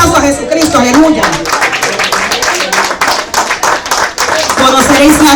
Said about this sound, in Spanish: Den un aplauso a Jesucristo, aleluya.